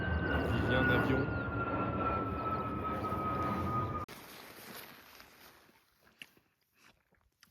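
An airplane climbing after takeoff from Geneva drones steadily overhead in open mountain countryside, a loud continuous engine hum that cuts off abruptly partway, leaving quieter outdoor ambience with talk.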